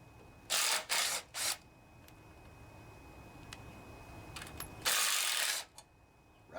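A 7/16 socket ratchet works on bolts of a vintage Snapper riding mower with an 8 hp Briggs and Stratton engine: three quick, loud bursts of clicking close by, a quiet pause, then a longer burst.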